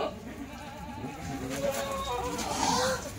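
A Kathewadi goat bleats in wavering calls close by on a farm, overlapping with people talking in the background.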